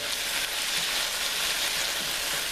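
Tomato masala for bhindi masala fries in a pan, giving a dense, even, close sizzle that holds steady throughout, with stirring hard to pick out beneath it.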